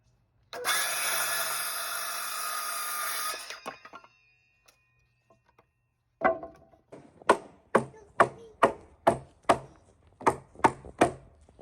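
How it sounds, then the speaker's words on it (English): 2x4 lumber for a backyard shed cut with a power tool: a steady loud whining cut lasting about three seconds, then, after a pause, a series of about ten sharp evenly spaced knocks, close by. "After clearing up some trees and bushes, we started cutting the 2x4s."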